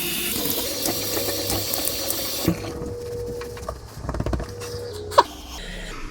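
Tap water runs steadily into a sink while a safety razor is rinsed under it, a continuous splashing flow for the first few seconds before dropping to quieter drips and a few knocks.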